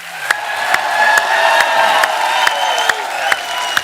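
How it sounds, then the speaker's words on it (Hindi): A studio audience at the Kapil Sharma Show, an Indian comedy talk show, fills the room with steady applause and cheering, a dense wash of clapping that stays loud throughout. "एक बार जोरदार तालियां हमारे मेहमानों के लिए।"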